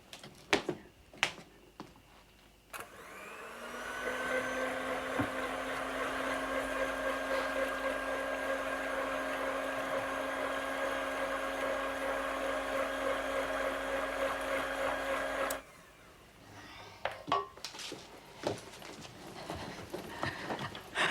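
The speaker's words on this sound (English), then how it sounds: "Mary Ann, I'm just grinding the gazpacho." A blender grinds gazpacho in a home kitchen, a steady buzzing motor hum that starts abruptly, runs for about thirteen seconds and stops, with clattering knocks and movement before and after.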